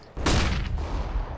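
A flashbang grenade detonates in the CS:GO video game: a sudden loud burst that hits hard and then rings out with a sustained noisy blast fading slowly.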